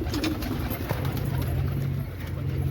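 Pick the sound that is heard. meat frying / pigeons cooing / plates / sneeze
pigeons cooing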